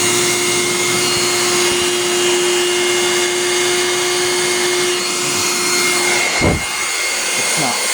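A broken Bissell 3-way vacuum cleaner with failed suction runs steadily and loudly up close, its motor whine holding an even tone before a brief thump near the end.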